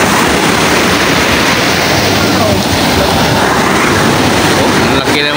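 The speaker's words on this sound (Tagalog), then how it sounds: "Oh, ang laki ng mga alon." Loud, continuous crashing surf on a Philippine coast fills the scene, a steady roar of big waves close by, with wind buffeting throughout.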